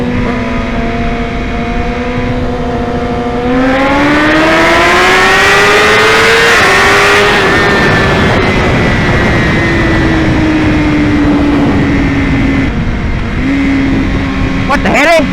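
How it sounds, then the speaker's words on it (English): At a bike meet, a motorcycle engine revs loudly up through the gears, its pitch climbing and then holding as it rides past close by. Other engines rumble in the background, and there is brief talk near the end. "We got so many bikes right now."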